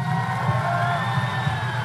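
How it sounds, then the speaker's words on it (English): Audience at a bodybuilding competition stage cheering and whooping, a dense steady wall of crowd noise with a low rumble, loud and continuous throughout. "Please give them a round of applause, please."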